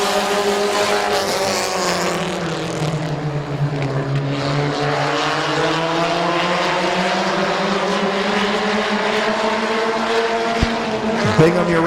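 Compact race cars in an eight-lap heat at Midvale Speedway, several engines droning and rising together in a loud, steady roar with pitch sweeping as the pack circles the oval.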